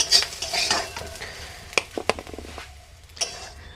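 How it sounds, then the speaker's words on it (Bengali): Lightly fried potatoes for a mushroom masala are lifted out of the pan, giving scattered metal scrapes and a few sharp utensil clinks over a faint sizzle, close and moderately loud, with no talking. "এবার আমি আলুগুলোকেও তুলে নিচ্ছি"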